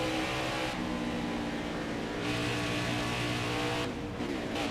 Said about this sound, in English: And here she sputters.